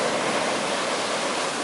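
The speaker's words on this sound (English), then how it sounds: "It's not the sound of the waves, it's the sound of the rolling of the rocks." Lava rocks rolling and rumbling in ocean surf at Kalapana, a loud, steady broadband roar that is continuous and close, with no voices.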